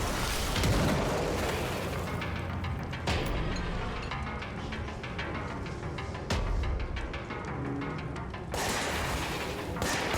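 Grenade explosions in the Control game, heavy booms with sharp bursts at intervals over a sustained rumbling din of combat, loud and close throughout ten seconds.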